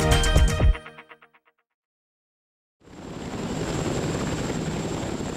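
Japan Ground Self-Defense Force military helicopter flying, a loud steady broadband rotor and engine roar that starts abruptly after a short gap and holds without a break, with a thin high whine on top.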